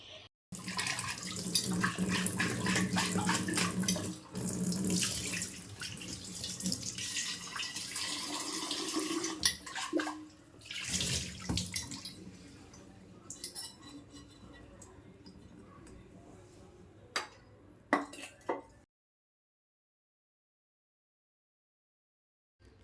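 Tap water running over kitchen items being washed in a sink, a continuous splashing stream with occasional clinks, stopping abruptly near the end and followed by silence.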